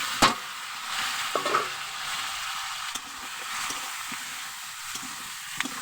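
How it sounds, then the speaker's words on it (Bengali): Ginger, chili, turmeric and salt sautéing in a pan give a steady broad sizzle, with a few light scrapes and stirring knocks standing out now and then, no voices. "দিয়ে আমি ভালো করে কষিয়ে নেব যাতে আদার কাঁচা গন্ধটা না থাকে"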